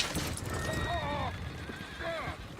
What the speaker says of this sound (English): Oh, shit, the horses! Damn horses!